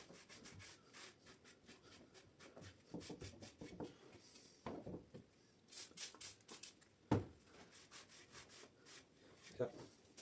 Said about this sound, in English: I'm going to do another round of sanding.